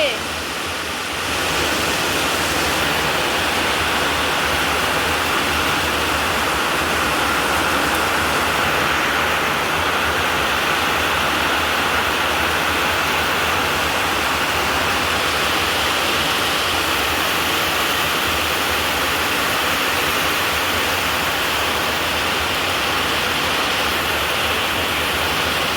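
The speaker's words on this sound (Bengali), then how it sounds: "দেখো আমাদের নিশ্চয়ই ড্রেনটা দেখো কি ফোর্সে জল যাচ্ছে" Floodwater rushes forcefully into a drain on a waterlogged street, a loud, continuous roar of rushing water close by with no break.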